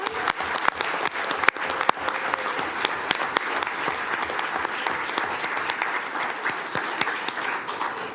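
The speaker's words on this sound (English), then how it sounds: "We're going to give them one more big round of applause" Sustained applause from a school board meeting audience honoring students, dense steady clapping filling the room from start to finish without a break.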